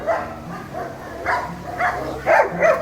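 Many dogs at a dog training area bark in repeated bursts at mid distance, with some whimpering yips mixed in over a steady outdoor background.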